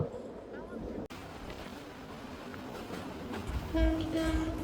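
A moving passenger train on the Dhaka to Sitakunda route rumbles steadily from on board, with a loud horn blast sounding near the end.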